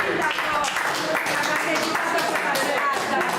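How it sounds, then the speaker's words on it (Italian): An audience in Ossi applauds Mayor Rossi at a Christmas poetry and song evening at Villa Gardenia, with steady, dense clapping filling the room for a few seconds. "Un applauso sul sindaco Rossi"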